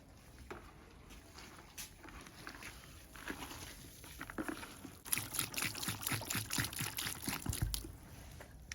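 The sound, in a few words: jerrycan water poured into tela beer mixture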